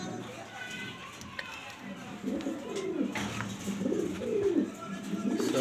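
Grizzle racer pigeons coo in a repeated, mid-pitched rolling rhythm, fairly close. A background voice murmurs under them.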